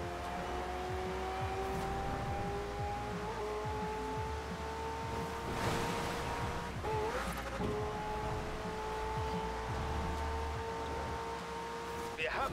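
A car drives in the Forza Horizon 4 racing game, its engine droning steadily with long rising shift tones, a few brief tire squeals and bumps, and a voice talking faintly underneath.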